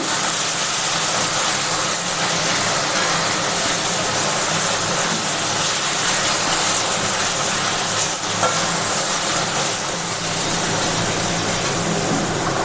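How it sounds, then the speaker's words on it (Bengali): Spice paste sizzles in a pan as it is sautéed for a prawn and taro curry, a steady loud frying hiss that runs without a break the whole time. "এইভাবে মশলাটা আমি কষিয়ে নেব।"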